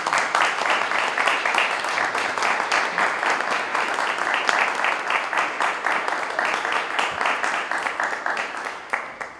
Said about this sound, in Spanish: les pido por favor un aplauso para él